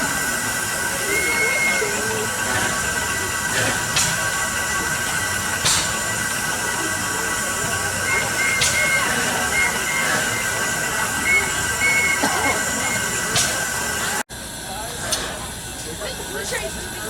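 A steam train on the Fillmore line hisses and runs steadily with continuous broadband noise and faint whistle-like tones, while people talk nearby.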